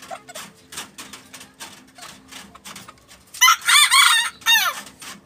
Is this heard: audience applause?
no